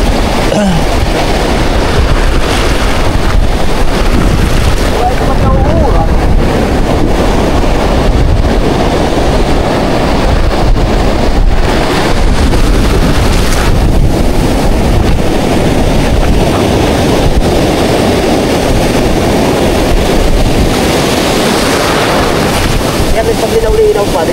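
Large sea waves surge and crash beside a fishing spot as strong wind buffets the microphone, a loud, constant roar with no pauses throughout.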